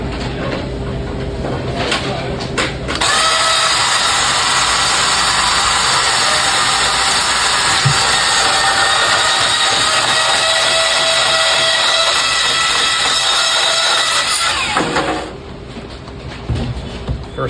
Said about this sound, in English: Now taking your bandsaw,